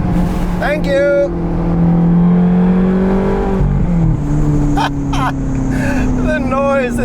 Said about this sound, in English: The noise that this thing produces at the back, I think you can hear it a mile away